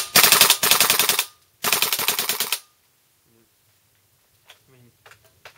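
WE G39C airsoft rifle firing full auto, two loud rapid bursts of mechanical rattling shots a moment apart, followed by quiet with faint clicks and a voice.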